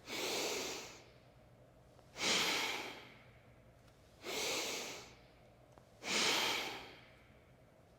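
Bhastrika bellows breathing, four forceful, loud breaths in a slow even rhythm, each a rushing whoosh of air lasting about a second, with quiet pauses between, close up and alone.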